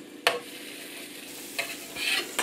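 Small blobs of blini batter frying in a pan with a constant close sizzle and a few brief clicks and scrapes from a utensil.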